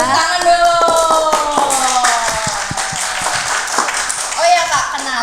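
An audience at a public health talk claps in a scattered burst of sharp hand strikes, mixed with lively voices and excited chatter close by.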